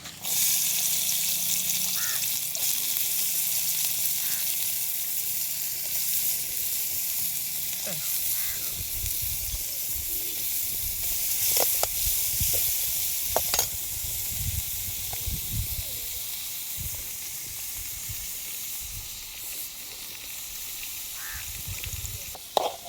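Chopped ingredients sizzle steadily in hot coconut oil in a home kitchen, a continuous close hiss with scattered crackles and a few low clunks, no talking.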